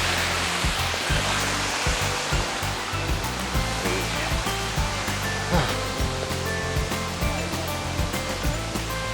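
Waterfall near the Hudson River feeding a small riverbed: a continuous rushing water roar, with scattered low thumps and knocks from movement close by.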